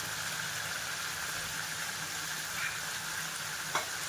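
Chicken sizzles steadily in a frying pan as turmeric and salt are stirred in, with a continuous frying hiss and a single brief scrape of the spoon near the end.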